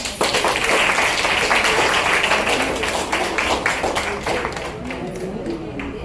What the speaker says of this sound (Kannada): ಇನ್ನೊಂದ್ಸತಿ ಜೋರಾಗಿ ಚಪ್ಪಾಳೆ ಕೊಟ್ಬಿಡೋಣ